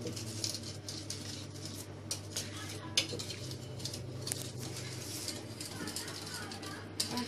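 A child stirs cake batter in a bowl with a spoon, producing a steady patter of light scraping and clinking against the sides, with an adult talking over it throughout and a low hum underneath.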